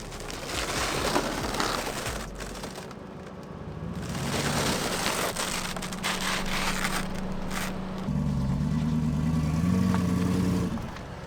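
A Lexus LS400 engine hums steadily while driving, with road and tyre rumble underneath and a rise in engine tone toward the end, heard close from inside the cabin with no talking.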